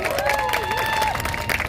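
Crowd applause and cheering at an outdoor political youth policy announcement by Cheonggyecheon, a short burst of clapping mixed with a held tone and voices, close and fairly loud.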